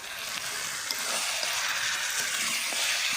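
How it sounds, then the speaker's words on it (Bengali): Meat sautéing in a spiced masala in a pan, a steady close sizzle and hiss with occasional soft stirring scrapes, alone without talk. "মাংসটা ভালো করে কষিয়ে নিচ্ছি।"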